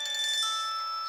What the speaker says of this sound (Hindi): किसका फोन है इस वक्त?